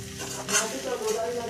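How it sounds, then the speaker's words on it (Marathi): Poha stirred with a spoon in a frying pan, a soft scrape of metal against the pan over a low steady sizzle, brief and quiet, close by. "आता आपण हलवायचं."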